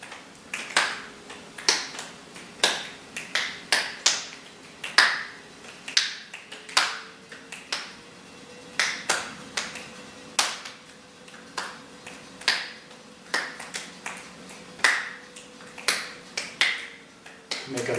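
Sharp finger snaps repeat at a steady, unhurried pace, each crisp and close, with nothing else heard between them.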